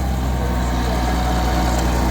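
A yellow and blue tractor pulling a seed drill runs its engine in a field, giving a loud, steady, low rumbling drone throughout, with no talk over it.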